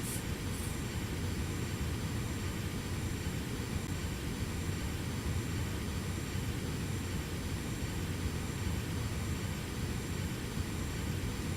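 Cirrus SF50 Vision single-engine light jet climbing in the X-Plane 11 flight simulator, a steady, even jet engine roar with broadband rumble that holds constant throughout, no talking.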